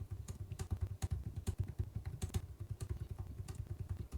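Quick, uneven keystrokes clack on a computer keyboard as a message is typed into a Linux terminal, soft and close with no voices.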